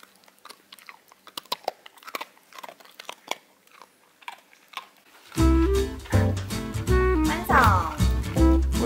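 A border collie crunches and chews a treat up close, with sharp rhythmic bites, and then a voice and music come in over the chewing.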